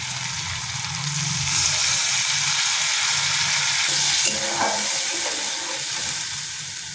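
Water going into mustard paste in a hot frying pan for a hilsa and aubergine curry sets off a loud, steady sizzle and hiss that swells, with stirring scrapes near the end.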